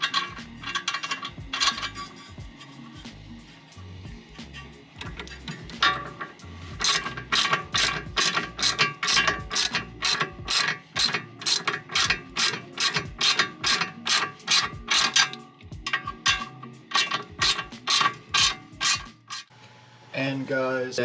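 A hand ratchet tightens bolts on a Volkswagen Jetta engine mount and subframe, its pawl clicking in fast, loud bursts of repeated strokes with short pauses between runs.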